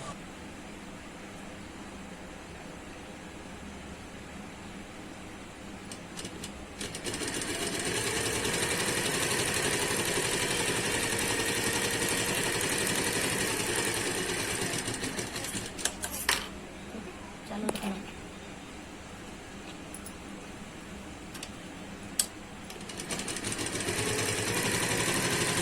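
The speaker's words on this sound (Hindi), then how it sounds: "अब हम नीचे की तरफ एक और सिलाई लगा रहे हैं।" A sewing machine stitches a second seam along the lower side of a suit. Its steady mechanical whir runs long and continuous at moderate loudness, pausing briefly, with a voice talking over it.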